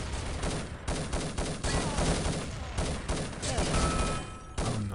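Dense, continuous gunfire and explosive clatter from a competitive shooter video game match fill the mix, loud and busy throughout with overlapping shots.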